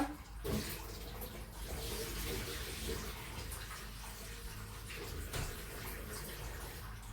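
Tap water running steadily into a sink or basin while something is rinsed in a home kitchen, a continuous close splashing rush with slight changes in flow.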